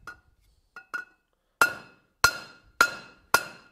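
A hammer strikes a rivet on a skillet resting on an anvil in a forge, with two light taps followed by four loud, ringing metallic blows spaced about half a second apart.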